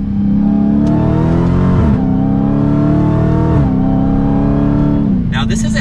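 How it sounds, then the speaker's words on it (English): A Dodge Challenger SRT Hellcat Redeye accelerating hard, its loud engine climbing steadily through the revs with brief dips at gear changes, close and continuous for several seconds. "let's give it a little bit more gas now."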